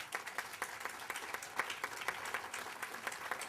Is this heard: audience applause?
yes